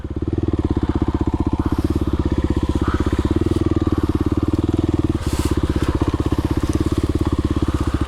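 A Kawasaki KLX 300R dirt bike ridden through the woods, its single-cylinder engine loud and close with a steady rapid thumping throb that holds a constant pace, plus faint rattles and crackle.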